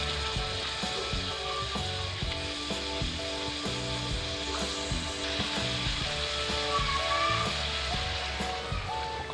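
Boiled jengkol tossed with spices in a pan gives a steady sizzle with scraping stirs and clinks, continuous and close throughout.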